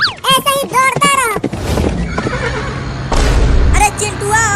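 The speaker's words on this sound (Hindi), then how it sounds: "बहुत बढ़िया घोड़ा, ऐसा ही दौड़ता रह।" A horse neighs several times in loud, wavering whinnies, then gallops with rumbling hoofbeats and a dull thud before neighing again, with voices talking alongside.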